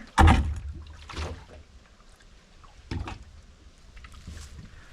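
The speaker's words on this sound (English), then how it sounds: "I'm sloshing it around in there and you can see it's bobbing it up and down, but it's not leaking." Water sloshing inside a Camco Rhino tote tank as it is lifted and rocked, with a sharp splash near the start, another around the three-second mark and quieter rumbling movement between.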